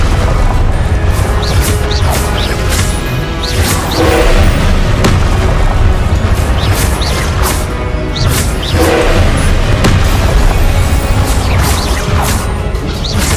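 Repeated Confringo spell explosions from Hogwarts Legacy, heavy booming crashes and pops landing every few seconds over a steady deep roar of game sound, close and loud throughout.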